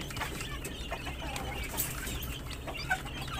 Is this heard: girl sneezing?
no